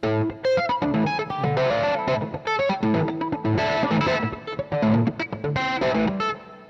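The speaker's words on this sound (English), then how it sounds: "I could even get more distortion." Electric guitar played through a distortion effect pedal, a run of loud, gritty chords and riffs with a few brief gaps between phrases.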